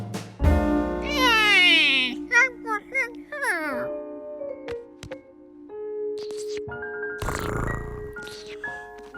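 Cartoon cat Gnocchi lets out a drawn-out meow with rising and falling pitch, followed by shorter chirpy mews and scattered small sound effects, and a musical tone runs beneath it.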